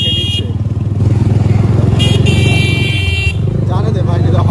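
Vehicle horns honking in bursts over a loud, rumbling engine on a highway in a village area, with speech blending into the traffic noise.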